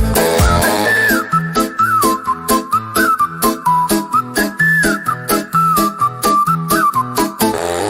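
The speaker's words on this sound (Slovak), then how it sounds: "Keď som šťastný, rád si pískam." Someone whistles a bright, lilting tune over a rhythmic musical backing, the melody clear and prominent from start to finish.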